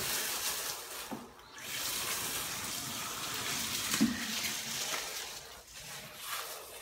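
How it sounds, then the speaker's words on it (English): Running water splashes steadily as gloved hands are washed with hair dye concentrate during a home blonde dyeing session, a close, continuous hiss with small shifts as the hands move through the stream. "Alright, I'm gonna wash my hands with my concentrate."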